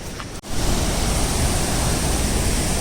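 A hidden waterfall near Aamla village, fed by mountain water after rain, roars as a loud, steady, close wash of rushing water with a brief dip near the start.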